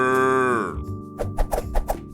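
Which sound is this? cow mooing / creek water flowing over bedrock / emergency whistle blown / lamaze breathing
cow mooing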